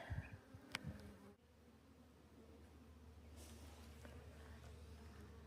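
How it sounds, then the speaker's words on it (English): Bees hum faintly and steadily around a small trail water source, a soft continuous buzz under low background noise with a few brief clicks. "All the bees are here getting their water too."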